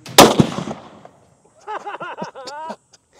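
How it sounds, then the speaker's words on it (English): A 300 Win Mag rifle fires once, a loud, sharp crack with a short decaying tail, followed a moment later by excited voices. "let's go ahead and take this shot. Firing."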